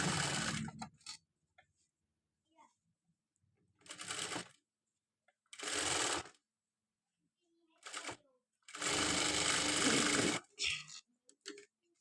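Sewing machine stitching a potli button blouse, running in several separate bursts of close, steady whirring a second or two long, with quiet pauses between runs.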